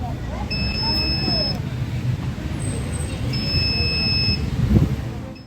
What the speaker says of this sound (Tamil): சென்சார் மூலம் இயங்கக்கூடிய இந்த வாக்கிங் ஸ்டிக் எதிரே ஆட்களோ பொருளோ மரமோ இருந்தால் பீப் ஒலி எழுப்புகிறது